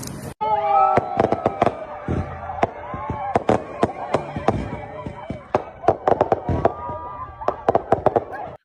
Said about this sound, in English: You saw the pink fireworks.